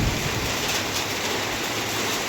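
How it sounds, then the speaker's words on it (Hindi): Heavy rain pours down in a steady, loud, dense hiss that never lets up, with no voices. "इतनी तेज़ बारिश हो रही है, सुबह से बहुत तेज़ से बारिश हो रही है"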